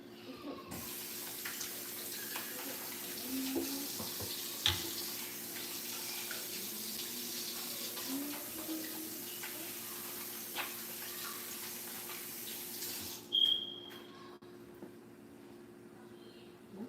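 A kitchen tap runs steadily while hands are washed, a soft continuous hiss of water with faint clinks and handling noises, ending abruptly when the flow stops near the end, followed by a brief squeak and quiet room tone.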